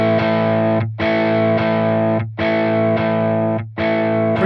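An electric guitar played through a Tonex pedal preset gives an overly saturated, heavily distorted tone, with several sustained chords struck in a loose rhythm, each ringing loudly before the next.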